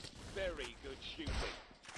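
Gunfire in the video game Genshin Impact: a few sharp shot bursts mixed into a busy game soundtrack, heard under a person talking.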